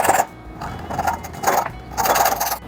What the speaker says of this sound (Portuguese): Então vamos cortar um pedacinho aí para a gente colocar aqui